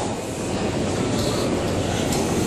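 Steady, loud rumble of a shuttle train in motion, a dense continuous roar with no talking and no break for the whole stretch.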